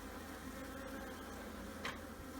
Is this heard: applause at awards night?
no